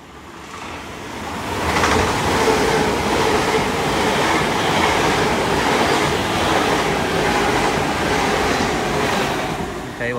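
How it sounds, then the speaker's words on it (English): A Great Western Railway nine-car Class 802 passenger train rolls through Dawlish Warren station close by, a loud continuous rumble and rush of wheels and carriages that swells, holds steady, then eases off. "Will be that Great Western Railway service from London Paignton to Penzance."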